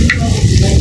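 Fritter batter sizzles and fries in hot oil in a wok, a steady close crackle with a brief brighter burst near the start, no voices.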